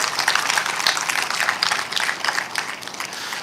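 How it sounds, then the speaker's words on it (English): Audience applause at a high school ribbon cutting ceremony, a steady crowd of clapping hands that holds fairly even for a few seconds and thins slightly toward the end. "a round of applause"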